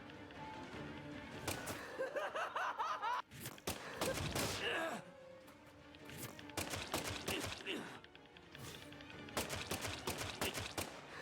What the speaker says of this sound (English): I'm just gonna keep shooting you